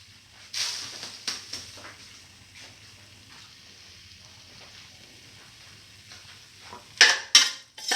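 Salt is stirred into a chicken neck and fenugreek leaf dish in a pan, with a quiet scraping and several soft clinks of a utensil against the pot, ending in a few louder knocks.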